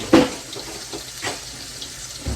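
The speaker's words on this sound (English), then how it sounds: "then we'll drop our okra in with just a drop of water to let it steam" Okra steaming in a pan with butter and a little water gives a steady close hiss and sizzle, broken by a few louder splashy bursts.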